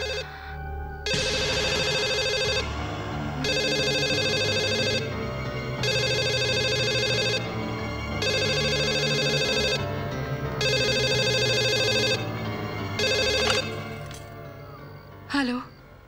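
A telephone rings in repeated loud bursts with short pauses between them, six rings in all, with a faint background murmur under them and a brief clatter at the end.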